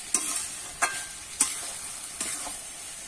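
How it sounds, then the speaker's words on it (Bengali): Banana flower curry with chickpeas being stir-fried in a pan, a steady soft sizzle broken by four sharp scraping clacks of a spatula stirring at roughly even intervals. "এবারে কিন্তু আবারও ভালো করে কষিয়ে নেব"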